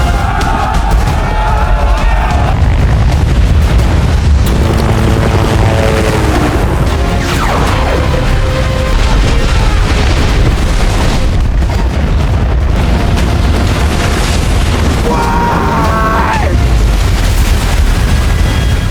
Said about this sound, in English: The massive explosion triggers an avalanche